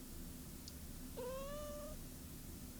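A pet cat gives a single drawn-out grumbling meow, fairly faint and close, over a low background hum with no talking.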